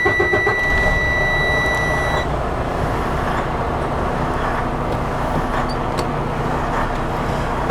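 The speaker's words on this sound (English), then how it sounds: "I'm going to depress the clutch, check to see if my gear shift lever is in neutral, and I'm going to start the engine." A truck engine cranks and starts during a pre-trip inspection, settling into a steady, loud idle after an initial whine, with no talking over it.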